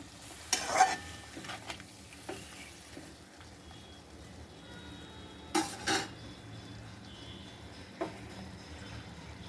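Flat beans fry and get stirred in a pan on a lowered gas flame, with a soft continuous sizzle beneath scattered scrapes and clanks of the utensil against the pan.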